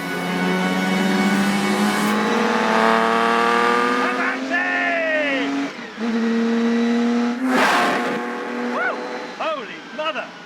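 A P3 sports car engine drones loudly on a narrow road, its pitch climbing through gear changes with brief dips and revving swells, while someone talks over it.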